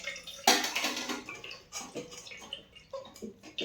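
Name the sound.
rinsing paneer with running water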